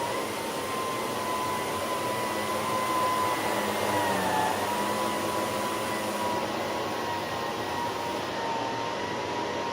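Electrolux Olympia One vacuum cleaner with a vinyl hose runs steadily at close range, a loud continuous whooshing roar with a faint whining tone that dips slightly midway, alone without speech.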